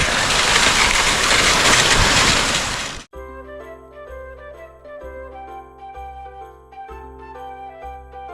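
Steady hiss of rain falling for about three seconds, then it cuts off abruptly and is replaced by bright, tinkling music.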